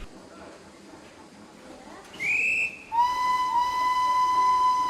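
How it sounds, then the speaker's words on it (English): A railway guard's whistle sounds briefly, then a long steady whistle blast rings out over a faint background rumble and hiss. "as soon as the guard's whistle blew"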